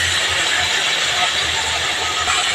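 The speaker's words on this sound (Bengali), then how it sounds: "এবার বন্ধুরা মাছগুলো ছেড়ে দিই।" Fish is slipped into hot oil in a home kitchen pan and fries with a loud, dense, continuous sizzling hiss that holds steady throughout, close to the listener.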